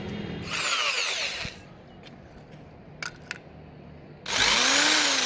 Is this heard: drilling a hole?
yes